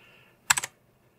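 A quick burst of three crisp clicks as keys are pressed on an onn. RGB mechanical gaming keyboard, close and fairly sharp, then quiet.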